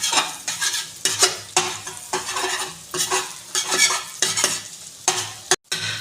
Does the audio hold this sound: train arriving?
no